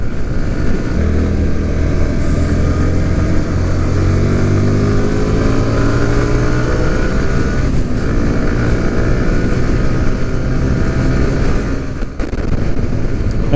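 A motorcycle cruises along a highway toward Salem with a steady, loud engine drone and wind rush, the pitch rising and falling gently as it holds speed, with no talking.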